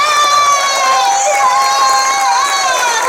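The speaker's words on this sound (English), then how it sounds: "nice round of applause for the host of today's show, Alex Ross." Audience at the Horror Make-up Show at Universal Studios Orlando cheering and applauding for the host, a loud sustained mix of shouts, whoops and clapping that stays level throughout.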